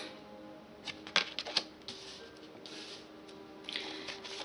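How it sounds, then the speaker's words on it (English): Tarot cards are shuffled by hand, giving quiet, close riffling flicks and soft taps in a few short bursts with gaps between them. "Just gonna keep shuffling"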